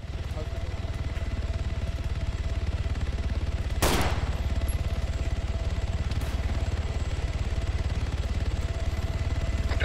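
Rapid continuous automatic gunfire in the video game ARMA 3, a steady rattling stream with one sharper nearby crack partway through, and voices talking over it.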